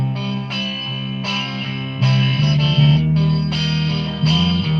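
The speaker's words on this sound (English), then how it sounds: "I'm just having fun with the distortion there and letting it sustain" Sustained distorted electric guitar chords ring out in a rock song, thick and loud with a driving bass line beneath, swelling and holding between changes.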